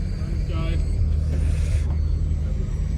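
Deep V8 supercar engines rumble steadily through a race at Donington Park, a thick low drone with a brief rising whine partway through, loud and continuous with voices over it.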